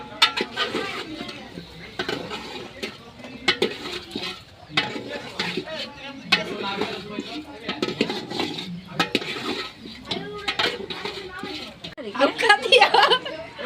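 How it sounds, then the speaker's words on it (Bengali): Meat stirred into a spice mix in a pot while making tehari, heard as repeated clattering scrapes of a spoon against metal under near, lively household talk. "মাংস দেওয়ার পরে ভালোভাবে নাড়াচাড়া করে নিচ্ছি, যাতে মাংসের মশলাটা ভালোভাবে লেগে যায়।"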